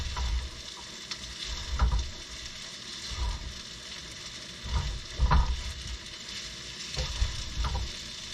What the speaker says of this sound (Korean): 후라이팬을 긁으면 안 되기 때문에 이거 나무 주걱을 이렇게 넣고 이렇게 해야 되는 겁니다